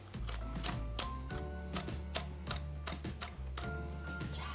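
A knife slices Cheongyang chili peppers on a cutting board in a steady run of crisp, evenly spaced taps, close and fairly quiet, with faint background music underneath.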